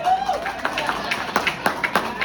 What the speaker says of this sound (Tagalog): Dinadaan niyo lang sa palakpak.